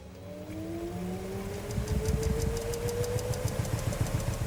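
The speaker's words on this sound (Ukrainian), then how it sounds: "Так, до речі, машинка почала віджим." An LG washing machine begins its spin cycle, a rising motor whine building into a rumbling, rhythmic drum spin that grows louder, heard up close without talk.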